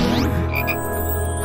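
A cartoon frog gives a single loud, close croak, with a short squeaky rise at the start and a deep throaty tone held to the end.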